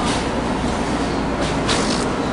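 A Paris metro train at a station, a steady broad rumble and hiss of the carriages running throughout, close and fairly loud with no talk.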